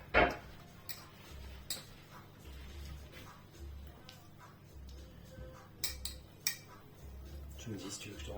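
Banana bread batter for a low-GI protein loaf being stirred in a bowl, with a spoon clinking and tapping the sides in a steady rhythm while people chat nearby.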